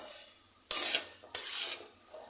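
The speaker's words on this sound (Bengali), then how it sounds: "লতিগুলোকে মশলার সাথে ভালো মতো কষাবো" Taro stolons being stirred with spices in a pan over raised heat, two distinct scraping strokes of a spoon against the pan, close and fairly loud, with quiet gaps between them and no talk.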